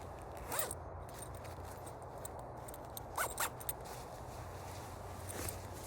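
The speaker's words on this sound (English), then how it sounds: "a YKK with a fairly big pull tab, because you might be wearing gloves" A YKK zipper with a large pull tab, sized for gloved hands, on a modular sleeping bag in a quiet room, run in a few short quick zips with pauses between, close and fairly soft.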